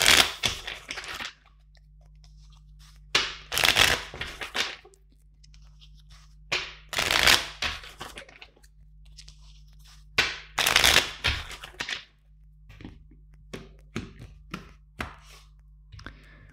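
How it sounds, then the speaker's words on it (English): A deck of tarot cards is shuffled in several quick bursts, crisp riffling flurries separated by pauses, with lighter taps and shuffles near the end. "Let's shuffle 3 more times the deck."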